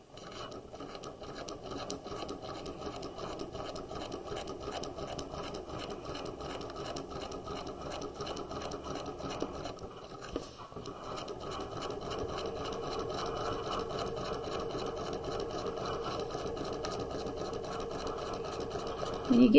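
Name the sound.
sewing machine stitching around a quarter zip jacket neckline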